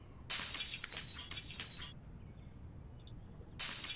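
Glass shattering in the video game Project Zomboid: a bright crash of breaking glass that rings for about a second and a half, a small clink, then another burst beginning at the end, all fairly quiet.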